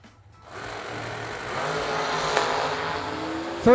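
A drag racing dragster engine rises from quiet into a growing roar at a drag strip event, building steadily, then surging loudly with a sharp rising whine at the end.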